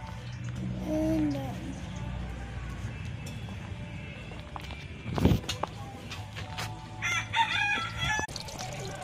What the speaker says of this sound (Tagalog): tumilak na yung manok